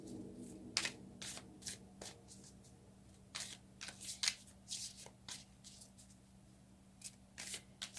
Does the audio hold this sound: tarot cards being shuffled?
yes